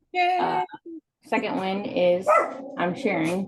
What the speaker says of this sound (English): Sorry about the noisy dogs.